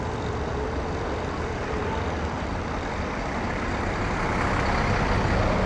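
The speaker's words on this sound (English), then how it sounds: "And the tourist buses." Tourist buses roll past on a busy Tokyo street, a loud, steady wash of engine and road noise with no clear breaks, and no one talking.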